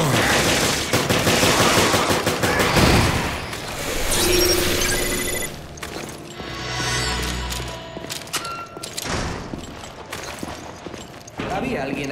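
Rapid gunfire in Resident Evil Revelations, bursts of shots rattling close and loud through a busy game mix, with voices talking over parts of it.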